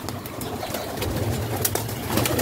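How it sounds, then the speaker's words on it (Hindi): A teddy pigeon in a pigeon loft coos in soft, low, repeated calls close by, over a steady background hum with no talking. "यहाँ पर एक टैडी कबूतर है"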